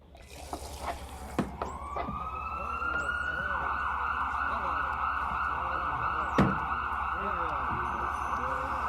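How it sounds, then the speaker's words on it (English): A siren wails steadily from near the start and holds through the end, loud and sustained over a low constant hum, with brief voices and a few sharp knocks early on. "There goes another ambulance."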